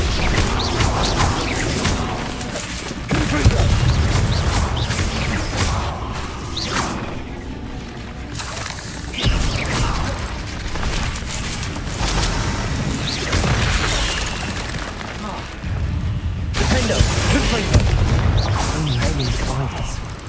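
Confringo fire spell blasts in the video game Hogwarts Legacy rip through dense, loud combat, with whooshing casts, booms and crashes stacked over busy game music and effects for the whole stretch.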